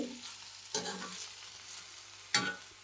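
Surti papdi beans fry quietly in spiced oil with a soft, continuous sizzle, broken by two sharp stirring scrapes close by.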